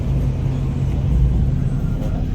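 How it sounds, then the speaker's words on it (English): Regular road traffic passing at a car meet, a steady low rumble of engines and tyres close by with no distinct vehicle standing out. "A bunch of regular traffic."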